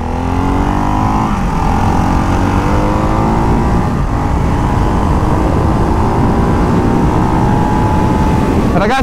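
A Ducati Hypermotard 698 Mono single-cylinder motorcycle accelerates hard on a test ride, its loud engine note rising through several gears in repeated climbing sweeps, with wind noise throughout.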